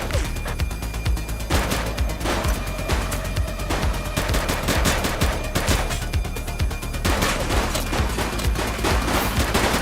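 Dense, sustained gunfire from a police video game firefight, with rapid automatic bursts and single shots crackling loud and continuous for the full stretch, no pauses between volleys.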